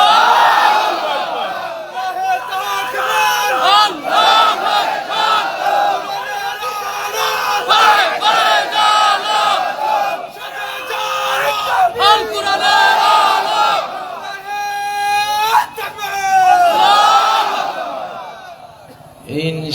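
A crowd at an Islamic religious gathering (waz mahfil) in Bangladesh roars takbir in loud, sustained massed shouts that swell and ebb over nearly twenty seconds.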